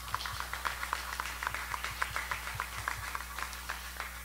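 Fathers gathered at a school parents' brunch clap for themselves, a sparse, scattered patter of individual hand claps at moderate distance over a steady low room hum.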